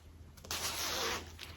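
A bomber jacket zipper is pulled up in one quick, continuous rasp lasting under a second, close and fairly quiet, with no talking.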